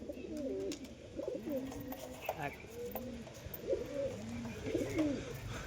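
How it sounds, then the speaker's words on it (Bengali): Pigeons coo repeatedly at close range, a rolling series of soft, throaty calls, while a person talks in the background. "এই দেখো এক জোড়া, কোয়ালিটি দেখি লাও কবুতরে"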